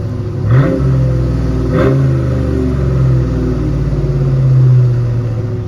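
A loud, rumbling Ford Mustang V8 engine idles through a deep Flowmaster exhaust, blipped into two quick revs before settling back to a steady burbling idle.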